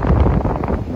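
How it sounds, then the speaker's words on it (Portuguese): Strong wind from a snowstorm buffets the microphone in a loud, steady low roar with rumbling gusts, no voices. "O vento tá aqui só por Deus"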